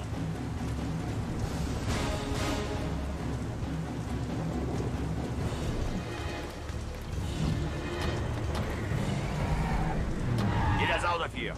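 Engine and road noise from a car driven in the video game The Saboteur fill the scene with a dense, continuous roar, with game dialogue spoken over it.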